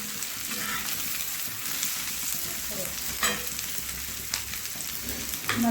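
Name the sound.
garlic and chicken kharda frying in a pan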